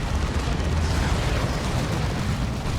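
Missile turret fire in Dawn of War 2 pounds away as a dense, continuous rumble of overlapping explosions and low booms, loud and steady throughout with no clear gaps.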